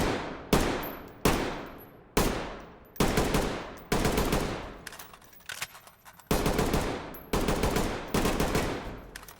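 Gunfire at a shooting range in the Ready or Not video game, with sharp, loud shots and short bursts in a steady, repeated rhythm, each crack trailing off into a brief echo, and no talk.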